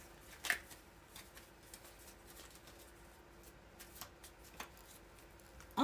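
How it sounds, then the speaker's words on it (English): Playing cards being flipped back over by hand, producing a few quiet papery flicks and snaps, with a sharper card snap near the start and another at the very end, over a soft steady room hiss. "So some of these cards flipped. Let me turn them back over."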